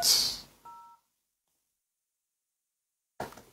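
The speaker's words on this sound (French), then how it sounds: "Je vais essayer d'appeler une sœur qui s'appelle Aminata." A brief dual-tone telephone dialing beep follows a burst of noise, then long silence, during a phone call placed on a radio broadcast.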